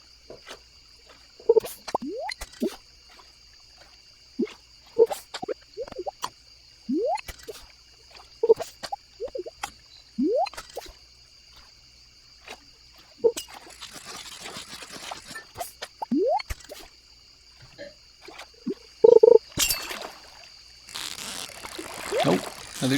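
River fishing in Stardew Valley, the video game, brings soft plops, drips and small splashy reel sounds that recur every second or two. A few louder bursts of water noise come near the end.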